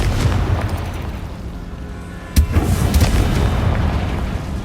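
A Confringo spell explosion in the video game Hogwarts Legacy, one sharp boom midway through a loud rumbling, noisy background, followed by continued low roar.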